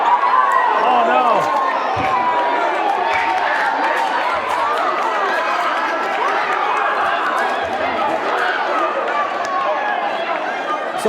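A packed gym crowd at a boys varsity high school basketball game, Springfield at Windsor, roars after a two-hand slam dunk. The loud, steady wash of cheering and shouting voices holds for the whole stretch, with occasional court thumps underneath.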